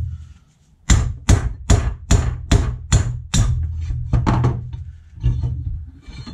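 Sharp metallic hammer blows drive a drift to knock a bronze bush out of a classic Mini radius arm in a workshop, about eight close, rhythmic strikes followed by a few softer, irregular taps.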